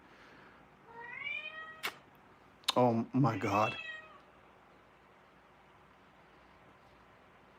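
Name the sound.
cat meowing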